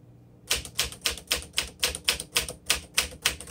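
Keystrokes on a 1957 Smith Corona Super Silent manual typewriter begin after a short quiet moment, then fall in a steady, even rhythm of crisp, close clacks at about three strikes per second, with no talk.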